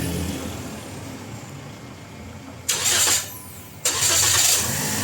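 A Toyota Vios car engine cranks in two short bursts of the starter, each about half a second, over steady background hum; no one speaks during it.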